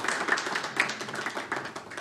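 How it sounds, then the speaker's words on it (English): A meetup audience at a NoCode Scotland talk gives a round of applause as the presenter walks to the stage: dense, steady clapping from many hands, close and fairly loud, with no talk over it. "Can we have a round of applause for Dominic as he walks to the stage?"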